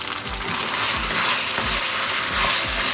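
Yucca roots and potato sautéing in a pan for Thai green fish curry, a loud, steady close sizzle with rhythmic scraping stirs about every half second and no talking.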